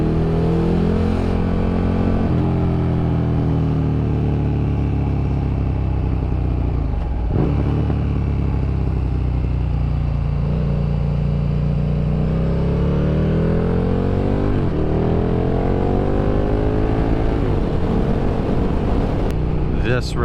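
A KTM Super Duke motorcycle engine runs steadily while riding on twisty canyon roads, its loud continuous drone rising and falling in pitch through gear changes and throttle shifts, with wind rush over the top.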